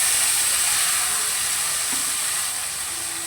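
Ground spice paste for a fish curry dropped into hot oil with black cumin, a loud, close, continuous hissing sizzle that fades slightly over a few seconds.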